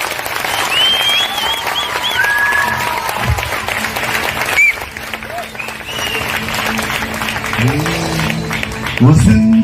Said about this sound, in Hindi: आइए यीशु के लिए अच्छी ताली बजाएंगे